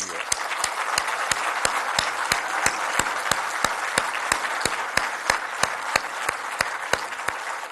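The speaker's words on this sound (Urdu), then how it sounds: "زوردار تالی لگائیں ان کے لیے" An audience gives loud, sustained applause for a girl from Pishin, Pakistan, at a speech event: dense clapping that holds steady throughout with sharp rhythmic claps standing out on top.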